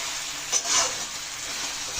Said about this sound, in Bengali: টমেটো, পেঁয়াজ আর কাঁচা লঙ্কা বেশ খানিকটা ভাজা হয়ে গেছে